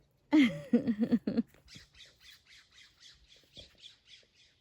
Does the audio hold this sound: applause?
no